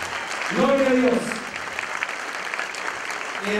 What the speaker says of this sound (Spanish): Un aplauso para ese rey.